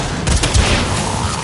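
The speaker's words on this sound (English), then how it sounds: "Return to the cannon and pull the trigger." Heavy cannon fire at a galleon in the video game Warframe, a loud burst of deep booming blasts and rattling impacts over about a second and a half.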